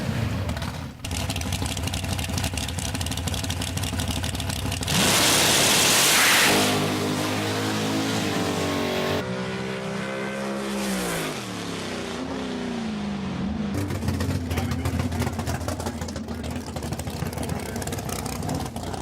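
A Ford dragster at a big block Ford drag race idles and roars with rising engine tones, loud and near, with a burst of harsh noise early and shifting revs through the run.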